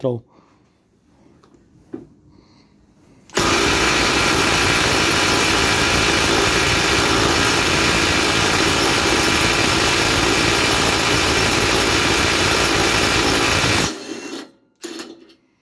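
A Milwaukee M18 FID 2 cordless impact wrench loosening a bolt tightened to about 182 Nm hammers in one loud continuous burst of roughly ten seconds, then stops abruptly, with quieter handling noises before and after.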